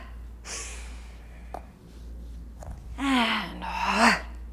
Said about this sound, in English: It's a long inhale.